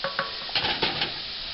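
A utensil stirs ham frying in a pan for Kraft Dinner, giving a few scraping clinks over a steady close sizzle.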